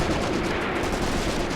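Soldiers fire their weapons in the war game Graviteam Tactics, set on the Mius Front: a steady, dense crackle of rapid rifle and machine-gun shots that carries on unbroken and fairly loud, with no voices over it.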